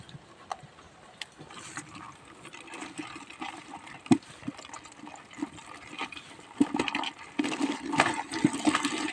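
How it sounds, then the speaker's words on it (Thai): Trapped fish and water are poured from a trap into a bucket, a gushing, splashing rush that builds louder toward the end, with clunks and rattles of the trap. "เดี๋ยวเทใส่ถังครับ"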